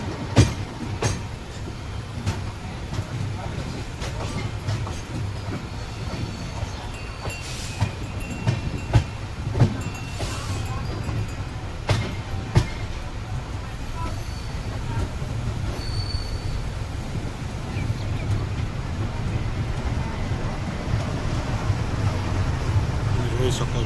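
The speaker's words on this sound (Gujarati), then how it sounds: "ફાઇનલી આપણી ટ્રેન 1 વાગે પહોંચી છે હાપા રેલવે સ્ટેશન" Passenger train pulling into Hapa railway station, a steady rolling rumble with wheel squeal and clatter of railcars, close and continuous throughout.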